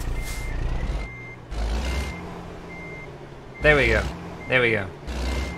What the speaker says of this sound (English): Oh man, a truck sounds kind of cool, actually.